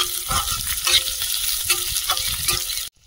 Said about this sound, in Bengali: এবার দিচ্ছি পেঁয়াজ কুচি, 2টো চেরা কাঁচা লঙ্কা,